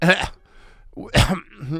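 A voice imitates a rough wheeze and cough in two short breathy bursts separated by a pause.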